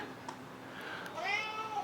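A house cat meows softly in a kitchen while protein powder is being mixed, giving a rising, drawn-out call toward the end, fairly faint against quiet room noise.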